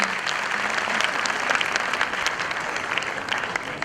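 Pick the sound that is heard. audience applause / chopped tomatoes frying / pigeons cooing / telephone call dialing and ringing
audience applause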